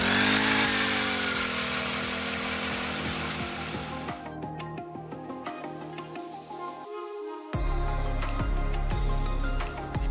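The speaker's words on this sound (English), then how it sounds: "The best, most reliable auger I've ever owned. Way better than electric." A propane-powered ice auger runs loud and steady, drilling holes through lake ice on a bright, cold day while ice fishing, its motor droning continuously with a brief dip before surging back near the end.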